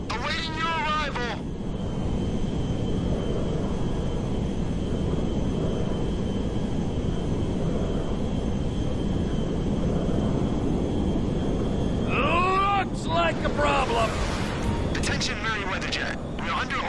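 Cargo jet in flight in the video game GTA 5, a continuous loud engine roar with a thin high whine running through it, with voices talking over it at the start and again near the end.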